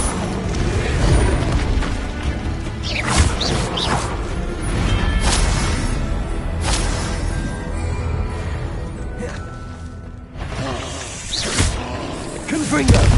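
Repeated Confringo spell blasts in Hogwarts Legacy, booming explosions with whooshing bursts and crashes layered over a busy game soundscape, with speech running throughout.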